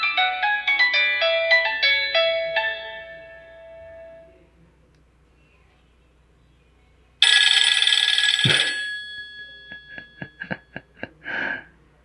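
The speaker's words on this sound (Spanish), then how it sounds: "Típico sonido de teléfono antiguo." A Nokia N73 phone's stock ringtones: a bright melodic run of chiming electronic notes fades out, then after a pause a loud burst of old-style telephone ringing is followed by a series of short, quick ringing pulses, with no talk.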